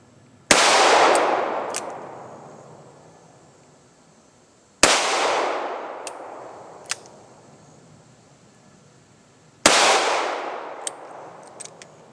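Three single-action shots from a Smith and Wesson 437 Airweight revolver ring out evenly spaced, each a sharp loud crack with a long decaying tail, followed by faint metallic pings from a steel silhouette target downrange.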